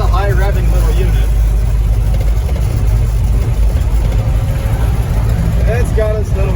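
An International Scout 80 engine drones steadily at highway speed, a constant low hum running beneath people talking throughout.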